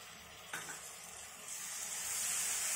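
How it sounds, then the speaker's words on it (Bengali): Spices fry with yogurt for a jackfruit and prawn curry, giving a faint sizzle that grows steadily louder as they are stirred, with one soft knock near the start. "আবার আমি একটু নেড়ে চেড়ে কষে নিচ্ছি।"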